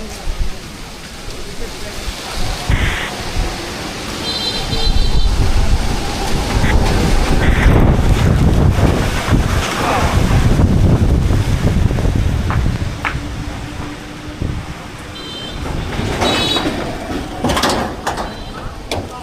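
Kalbaishakhi storm wind buffeting the microphone in a loud, surging roar that swells and eases over many seconds, with rattling gusts and faint voices now and then.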